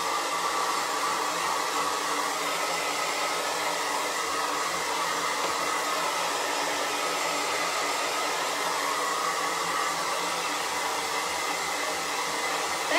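A hair dryer blows steadily to dry ink on a design, a constant close whooshing roar that runs unbroken throughout with no talk.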